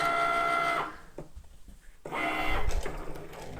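A Cricut Maker drawing with a pen, a close whirring mechanical motor buzz that stops for about a second, then resumes in a rougher burst of carriage movement.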